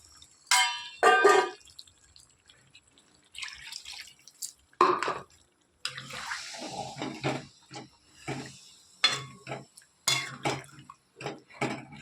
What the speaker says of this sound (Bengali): এরপর আমি অল্প পরিমাণে জল দিয়ে দেবো।